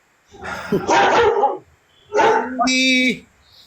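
A dog gives two short, loud barks close to the microphone, each breaking into a yelping, whining tail, with a brief pause between them.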